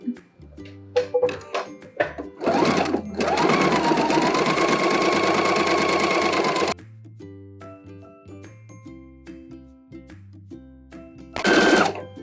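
A sewing machine runs a zigzag stitch over two threads in one steady, fast burst of about four seconds, between quieter clicks and handling sounds, then starts again briefly at the end.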